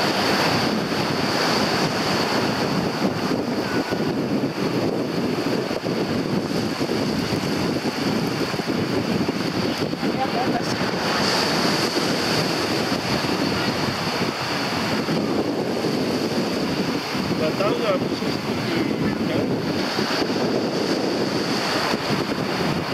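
Ocean waves break and wash continuously on a beach in Vietnam, a steady rushing surf with wind buffeting the microphone throughout, no voices.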